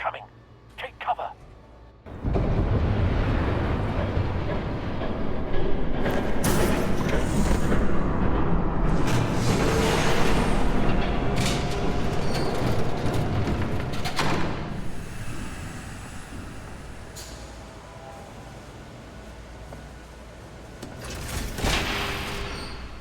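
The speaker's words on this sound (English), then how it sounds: "There's a train coming." Approaching train in Batman: The Telltale Series: a heavy, sustained rumble swells in after a brief quiet start and stays loud and close for most of the clip, with clanking bursts on top.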